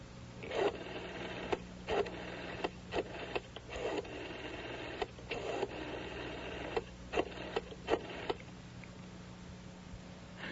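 A telephone being dialed in an old radio drama, rapid bursts of dial clicks and tones in irregular groups over a faint steady hum, moderately quiet and with no voices.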